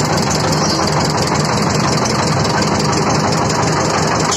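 A trawler boat's engine runs steadily at Pangaon in South Keranirganj, a loud, continuous mechanical drone with an even idling rumble throughout and no break.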